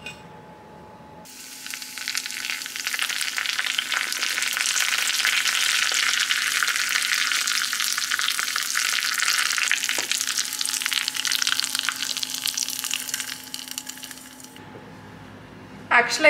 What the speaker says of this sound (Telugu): సో యూజువల్గా అయితే నేను కొంచెం ఆయిల్ అండ్ కొంచెం ఘీ వేస్తా తాలింపు కోసం